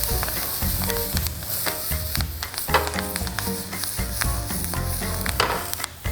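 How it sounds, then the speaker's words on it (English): Oven-roasted seafood with kosher salt and fresh cilantro sautéing in a hot pan gives a loud, steady sizzle, with scattered clinks and scrapes of stirring throughout and no talking. "Being that it's already been roasted in the oven, it takes no time to saute."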